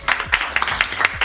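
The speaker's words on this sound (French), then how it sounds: "On va applaudir Vincent et Arnaud." A studio game show audience applauds two new contestants, giving a short burst of rhythmic clapping that is loud and close.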